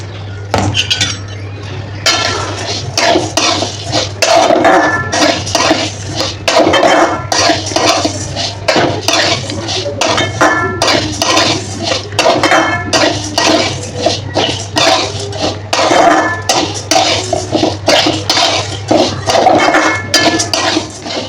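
Mixed dry grains, rice and lentils rattle and scrape against a metal wok in brisk, repeated roasting strokes, with a low steady hum underneath.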